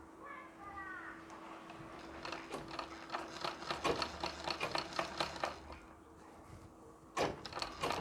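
A sewing machine runs in rapid mechanical bursts while stitching the pleats of a Nauvari saree, with pins pulled out one at a time as the seam advances. A steady hum lies beneath, and a voice talks over the stitching.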